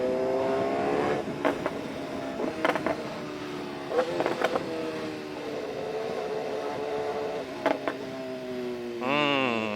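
A BMW S1000R motorcycle with a Rapidbike Evo module revs its exhaust in several sharp blips over a steady idle, close and loud, with a final rising rev at the end.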